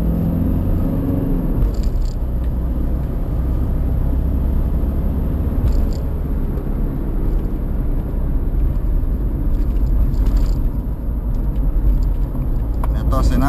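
A Toyota Land Cruiser LC200 engine rumbles steadily from inside the cabin, droning at a constant level with slight swells as it downshifts with rev matching.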